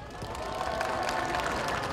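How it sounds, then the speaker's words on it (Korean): An outdoor crowd claps and cheers steadily at a local council candidate's campaign office opening on a hot Saturday, a dense continuous wash of applause. "큰 박수와 다시 한번 환호 부탁드리겠습니다."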